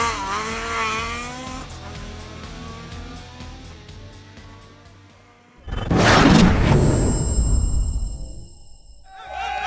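Mark II Ford Escort rally car on a Barbados stage revs hard through rising gear pulls, then roars loudly past close by with a burst of gravel and tire noise before fading away.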